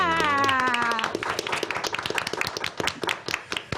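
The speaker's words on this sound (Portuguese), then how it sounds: "Uma salva de palmas para Glamour Garcia!" An audience claps for a guest being welcomed onto a Brazilian radio program, with sharp, uneven hand claps building after a brief tonal musical sting at the start, fairly close and moderately loud.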